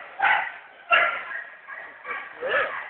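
A 16-month-old dark brindle bullmastiff gives several short, close barks and yips mixed with whimpering, in uneven bursts across a few seconds.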